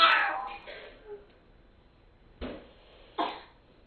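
A 10-month-old baby girl's cough, a couple of short raspy bursts separated by quiet, with a brief vocal sound at the start.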